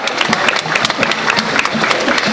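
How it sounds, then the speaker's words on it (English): An audience at a tiger show on Tiger Island, Gold Coast, claps steadily and loudly in dense continuous applause that fills the whole stretch. "Give her a bit of a round of applause"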